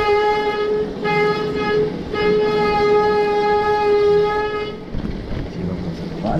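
Vehicle brakes squealing loudly on a rainy street in Cuba, a sustained high-pitched, horn-like tonal screech lasting several seconds before cutting off into street noise, with people talking nearby.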